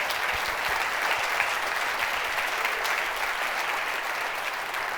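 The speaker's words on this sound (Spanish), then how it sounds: "Eso se merece un aplauso fuerte." A church congregation claps loudly and steadily, a dense continuous wash of applause that fills the hall.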